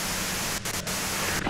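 Dense broadband white-noise static in the game Disco Elysium, a steady hiss filling the short stretch with a couple of brief dropouts.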